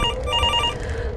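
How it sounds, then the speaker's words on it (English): A telephone rings in the game Roswell Ranch with a steady electronic bell tone, loud and close, alone without voices. "Is that phone just gonna be ringing for the... for the entire time?"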